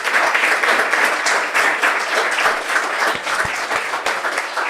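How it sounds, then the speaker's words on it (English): Warm, steady applause from an audience at the close of a photography book talk, continuous clapping holding at an even, fairly loud level throughout with no voices over it. "give yourself a round of applause"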